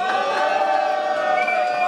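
Arena crowd at a live fighting event in Londrina cheering loudly and steadily for a fighter, a dense continuous roar with whoops throughout.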